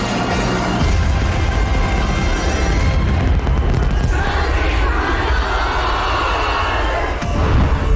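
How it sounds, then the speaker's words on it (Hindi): New Year fireworks over Red Square in Moscow, a dense, continuous roar of blasts and crackling that stays loud throughout, with a brief dip near the end before the bangs surge again. "रेड स्क्वायर पर जोरदार आतिशबाजी होने लगी।"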